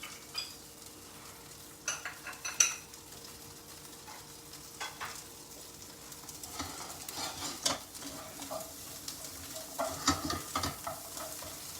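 Food cooking in Amul butter over a high flame sizzles softly with steady frying crackle, while a utensil stirs and scrapes the pan in irregular bursts, close and fairly quiet, with no voices.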